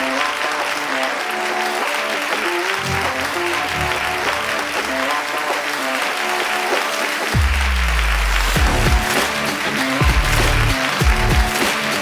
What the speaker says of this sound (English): thank you for the great applause and welcoming